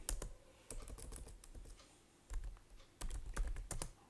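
Keys clatter on a computer keyboard as a MySQL query is typed, with quick close bursts of clicks separated by brief pauses and no voices.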